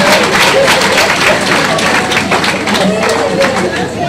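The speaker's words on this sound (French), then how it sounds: "Applaudissez pour monsieur." A crowd at a church service applauds a student with dense, energetic clapping and some voices mixed in.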